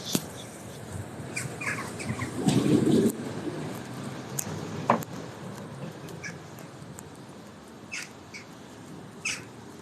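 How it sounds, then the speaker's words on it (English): Birds outside a library in Bandon, County Cork, Ireland, give scattered short chirps at a distance over a faint outdoor hum. "Hear the birds, happy eating."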